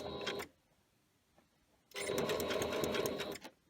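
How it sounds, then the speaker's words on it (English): A sewing machine stitches a bag in two bursts of fast mechanical whirring, the first short and the second longer, separated by a quiet pause. It sounds close and moderately loud, with no talk. "And now I'm sewing the other side."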